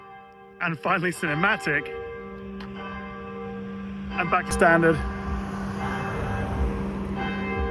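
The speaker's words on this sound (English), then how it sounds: "with the bells ringing in the background" Church bells ringing in the background, steady tones sustaining behind someone talking in the foreground.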